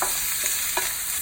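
Peppers and carrot stir-fried in a pan alongside mushrooms and zucchini give a close, steady sizzle, with a couple of brief scraping stir strokes rising above it. No voices.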